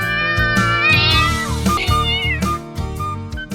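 Cartoon-style cat meows ring out repeatedly over a busy musical backing, several bright, wavering calls that stay loud and close for the whole stretch.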